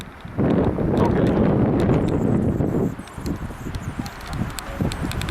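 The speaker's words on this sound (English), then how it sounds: "Wow, the wind just pushed me backwards." Strong gusting wind roars across the microphone in a loud, heavy rush, then eases into choppier buffeting near a snowy lakeside resort during a storm.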